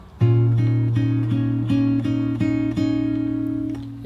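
A bar of a song on fingerstyle acoustic guitar: a held low bass note under a quick run of evenly picked treble notes, played solo and up close.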